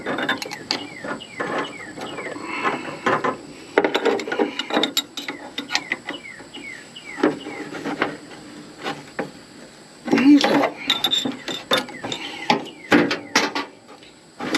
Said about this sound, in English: tighten the hose up